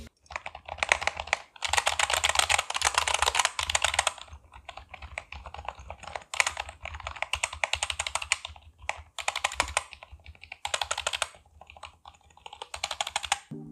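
A finger runs across the keys of a lubed Amkette EvoFox FireBlade membrane keyboard, giving quick bursts of soft, muffled key clatter in several separate sweeps with short pauses between, close and fairly quiet.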